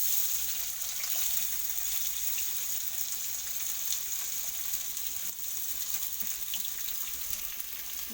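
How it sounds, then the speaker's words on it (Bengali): Onions frying in oil in a home kitchen pan while a mutton broth is prepared, a steady, moderately faint sizzle and crackle with faint watery hiss, continuous throughout with no talking. "পেঁয়াজটা আমার ভাজা হয়ে গেছে"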